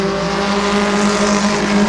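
Race cars cornering at Midvale Speedway, a loud sustained engine roar with steady pitched tones, close and continuous with no talk.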